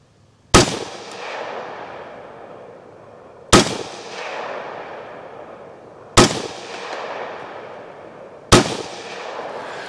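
Four loud, sharp rifle reports from a 5.56-chambered AR-15 firing .223 rounds at a 100-yard range, spaced about three seconds apart, each cracking and ringing out briefly before the next, with no talking.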